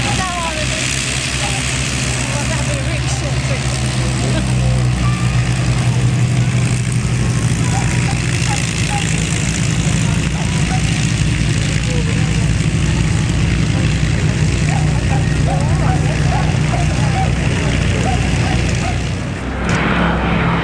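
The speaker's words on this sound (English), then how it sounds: "A little bit of footage of the Lancaster taxiing." Avro Lancaster bomber taxiing at an open day, its propeller engines giving a loud, steady, unbroken drone with a low throb that holds for about twenty seconds.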